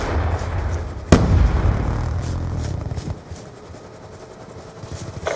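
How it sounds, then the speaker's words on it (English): A grenade blast in a military first-person shooter game, a sharp loud burst followed by a rumbling low tail, with fainter pops and gunfire-like cracks scattered afterward. "Hostile grenade!"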